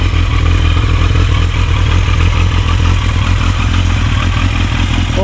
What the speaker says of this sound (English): It holds the idle really nicely, just slightly over 1000 RPM